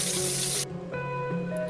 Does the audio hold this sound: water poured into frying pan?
yes